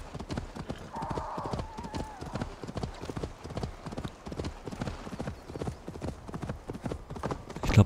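Horse hooves clip-clop steadily at a gallop while riding in the Assassin's Creed video game, with a brief whinny early on and a person talking over the rhythmic footfalls throughout.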